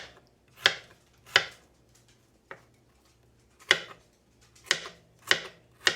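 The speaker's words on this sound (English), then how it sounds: "I'm going to finish chopping that up since it takes a minute" A knife chops cooked turkey for turkey salad on a cutting board. Seven sharp, distinct knocks come at irregular intervals over quiet background hum, and nobody speaks.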